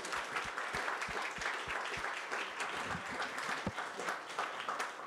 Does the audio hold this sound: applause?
yes